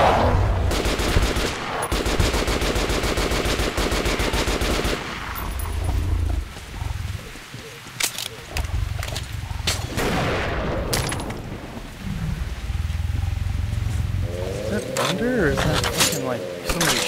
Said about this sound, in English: like somebody shooting